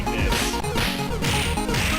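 Sega Genesis game audio played through a homemade emulator, a dense, harsh, distorted burst of loud music and effects with swooshing, crashing hits in quick succession.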